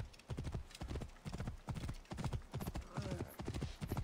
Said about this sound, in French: Allez, on va prendre le cheval.